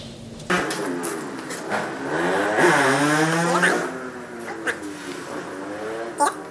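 A homemade glass bottle cutting machine is switched on and off over and over, its motor whining up and down in pitch close by in rising and falling sweeps, with clicks between runs.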